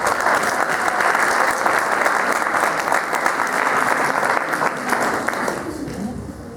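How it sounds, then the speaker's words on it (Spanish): An audience at a liturgical music congress breaks into strong, continuous applause to welcome a speaker, dense clapping that holds steady and then tapers off at the close. "Vamos a recibirlo con un fuerte aplauso."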